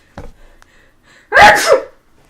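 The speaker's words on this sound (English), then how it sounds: "I need to sneeze." A single loud, close sneeze with a sharp intake before it, preceded by a few faint sniffs or breaths.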